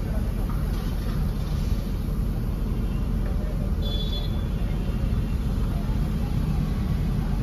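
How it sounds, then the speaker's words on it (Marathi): A new 2024 Tata Tigor CNG with a Lovato kit, driven with a steady low engine and road rumble that stays loud and continuous throughout, with no pauses. "गाडीचं रनिंग आपण पाहू शकता."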